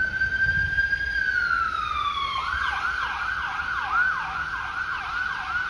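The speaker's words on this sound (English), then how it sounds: "There go the sirens, honey." Emergency vehicle sirens pass on a street: a steady wail slides downward, then turns into rapid repeating yelp sweeps, loud and fairly close above a low traffic rumble.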